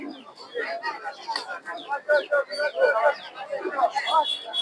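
Sirazi, racer and Dhaka King pigeons coo and flutter nearby in a busy flock at a bird and pigeon market in Narsingdi, low throaty calls overlapping continuously, with chirps and faint background voices mixed in.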